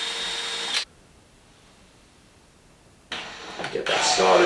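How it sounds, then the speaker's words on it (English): A power drill whirs in short bursts at close range while pre-drilling a screw hole, a brief run, a long pause, then two more loud revving spins. "I'm going to take a drill and I'm going to pre-drill the hole"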